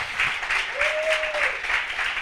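A church congregation claps together in steady applause, a dense rhythmic patter filling the room, with a brief voice rising over it partway through.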